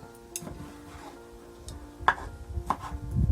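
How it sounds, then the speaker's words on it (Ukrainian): A knife chops zucchini on a cutting board in sparse, uneven strokes, soft and close, with light kitchen clatter. "поки будемо нарізати кабачок"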